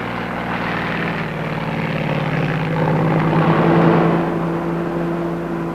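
A propeller aircraft drones steadily overhead, its engine hum swelling slightly toward the middle before easing off, alone with no talk.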